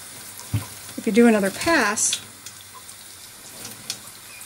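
Water runs from a tap while a soapy hand is rinsed before shaving, a faint steady splashing with a voice speaking briefly over it.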